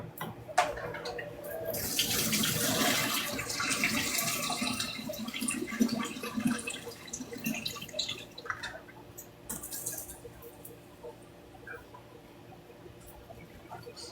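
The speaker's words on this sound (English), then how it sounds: "you still gotta rinse them greens off" Collard greens are rinsed under a running kitchen tap while Sunday dinner is being cooked. Water splashes and gushes strongly at first, then trickles and drips more softly, with no talking.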